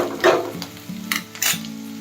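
Potato pieces go into a hot pan for a no-masala pulao, giving short bursts of sizzling and frying with light stirring and metal scraping.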